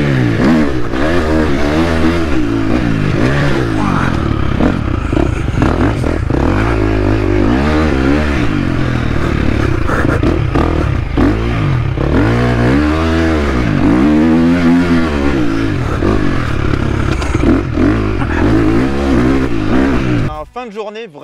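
A 57 hp KTM motorcycle engine revving hard while riding, loud and close, rising and falling in repeated surges with a rattling mechanical edge, cutting out near the end.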